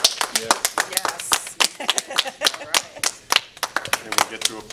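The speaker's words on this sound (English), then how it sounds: "And we get to applaud." Scattered clapping from a small group gathered for the delivery of recall petitions in Loveland, uneven sharp claps under cheerful talk and voices.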